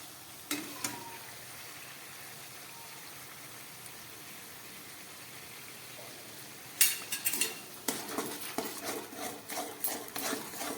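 Cashew paste added to sizzling masala in a pan for vegetarian chilli paneer, a quiet steady sizzle, then sharper splattering and stirring scrapes as the paste goes in.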